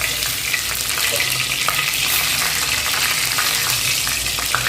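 Chilli powder and curry leaves crackle and sizzle in hot oil, a loud, close, continuous frying hiss with stirring scrapes and small pops throughout.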